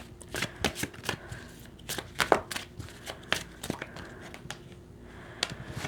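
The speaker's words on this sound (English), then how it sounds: "let's go ahead and get one of these Anna Stark cards" Tarot cards from an Anna Stark deck shuffled by hand, a quick series of crisp riffling slaps and soft card flutters in irregular bursts, close and moderately loud with no talking.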